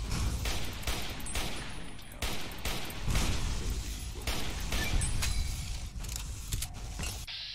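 Gunfire aimed at Ulysses in Fallout: New Vegas, Lonesome Road: a dense, loud barrage of rapid shots and crunching impacts over rumbling, clanking game noise, continuous for several seconds before cutting off.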